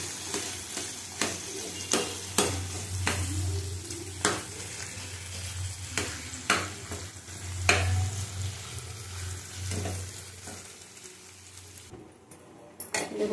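Vegetables frying in a pan for a curry, with a continuous sizzle and a low bubbling hum, punctuated by regular sharp spatula scrapes and taps against the pan, close up with no talking.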